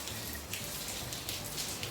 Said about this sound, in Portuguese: E a chuvinha tá assim, ó.